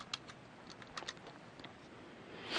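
A computer keyboard is typed on in a short, quiet burst of soft, irregular clicks, ending in a slightly louder tap, close by in a quiet room.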